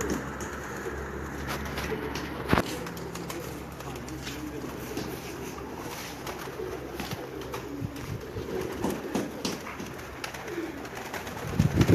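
Racing pigeons coo softly amid constant rustling and background chatter at a pigeon tournament in Lahore, with a few sharp knocks and flutters.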